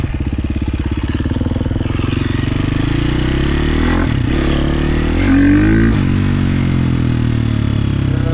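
A KTM 350 motorcycle with a flame-out problem revs hard on takeoff, loud and close, its engine note climbing and dipping through throttle changes under steady mechanical clatter.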